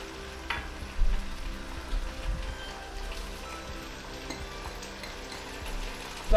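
Mapo tofu ingredients frying in a hot pan over a turned-up flame, a steady close crackling sizzle with a few louder bursts of spitting and stirring, no talk.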